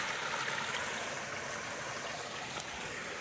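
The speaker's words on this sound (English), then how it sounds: "you're only 50 feet from this little stream" A small, clear mountain stream in the White Mountains flows in a steady, close, rushing wash of water with no talking.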